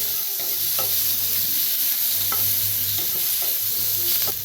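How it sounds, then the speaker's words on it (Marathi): Tomatoes fry in a pan with a steady, close sizzle, broken by intermittent scraping strokes as they are stirred. "आता ह्याच्यातच टमाटो भाजून घेऊया"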